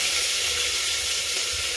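Tomatoes going into a hot pan of tempered dal, giving a steady, close frying sizzle with a bright hiss throughout and no talking.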